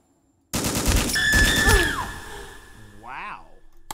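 An M16 rifle in the horror video game Gynophobia, firing a loud, rapid automatic burst of close shots that rings out and decays into a warbling tail, followed by a single sharp click.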